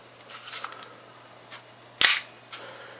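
The slide of a Grand Power K100 airsoft pistol gives one sharp, close metallic snap, preceded and followed by faint handling clicks, with no voices.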